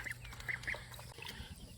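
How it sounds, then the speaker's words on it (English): Ducks kept in a backyard with chickens give a few short, faint quacks at a distance, scattered among soft outdoor background noise. "see the other ducks, they just stand around and stare at him"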